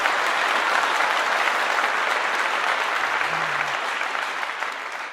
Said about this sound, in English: Let's give Quandre a round of applause.